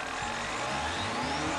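A car engine with Multec electronic fuel injection is revved up and back down in a steady rising and falling drone, heard close and alone.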